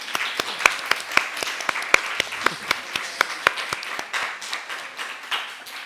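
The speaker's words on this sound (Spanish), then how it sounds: "Un aplauso para Maca, que estaba ahí." An audience at a podcast workshop presentation claps for the technical team, with distinct hand claps in a quick, even rhythm that grow denser and more scattered toward the end, close and fairly loud.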